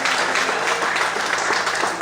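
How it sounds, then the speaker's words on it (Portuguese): A church congregation applauds in a dense, steady wash of clapping, loud and sustained without pause. "Você pode glorificar e aplaudir o Senhor"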